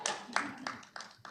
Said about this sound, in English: I'm going to applaud.